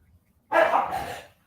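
A single burst of dog barking, close and fairly loud, lasting under a second, with quiet background before and after.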